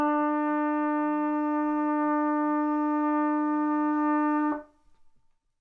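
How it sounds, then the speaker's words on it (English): A trumpet sustains a single steady, bright E, fingered with the first and second valves, for about four and a half seconds and then stops abruptly, leaving near silence. "E is produced on the trumpet by pushing down the first valve and the second valve."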